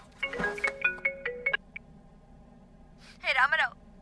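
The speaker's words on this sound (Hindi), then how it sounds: "फोन आ रहा है।" A mobile phone ringtone plays a short melodic run of electronic tones, then breaks off. A brief, busier burst of electronic tones follows a moment later, all fairly faint and close.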